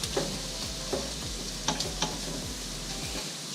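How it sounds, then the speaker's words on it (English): Vegetables saute in a pan over a strong flame for seafood lasagna, with a steady close sizzle and a few soft scraping stirs, and no talking. "And then kind of just let that saute for like 10 minutes, 15 max"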